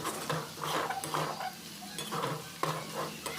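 Thin potato strips frying in a pan are stirred with a utensil, giving repeated scraping strokes and light metallic clinks over a soft sizzle, fairly close and moderately quiet.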